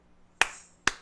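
Two sharp, crisp hand claps, close and alone, about half a second apart, beating out a bell rhythm pattern in Mediterranean-style music.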